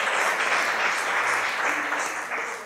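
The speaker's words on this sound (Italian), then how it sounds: "un applauso a Barbara" A roomful of people applauds for Barbara during a talk, steady close clapping that holds evenly and tapers slightly at the end.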